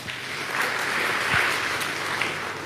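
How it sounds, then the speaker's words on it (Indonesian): A church congregation applauding during a sermon, a steady full roar of many hands clapping with a few sharper individual claps standing out. "Tepuk tangan buat Tuhan."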